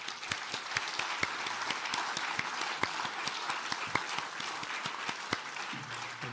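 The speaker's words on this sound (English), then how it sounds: "Je crois qu'on peut applaudir notre lauréat." An audience at a geography prize ceremony applauds the laureate, a fairly quiet, steady patter of many hands with a few sharper individual claps standing out, heard from some distance in a hall.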